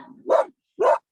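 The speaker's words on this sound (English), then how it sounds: "she's barking at the men" A dog gives two sharp, close barks about half a second apart, loud and clear with silence between them.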